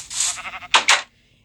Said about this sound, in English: I only have sheep for now.